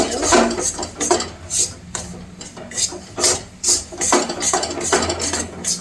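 Urad dal flour roasting in ghee in a pan is stirred continuously, producing repeated rhythmic scraping strokes of a spoon against the pan, close and fairly loud, about two strokes per second.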